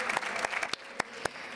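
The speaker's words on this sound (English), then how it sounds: "Again, round of applause." Brief audience applause at an entrepreneurship talk, a few scattered claps fading out quickly, faint and distant in the room.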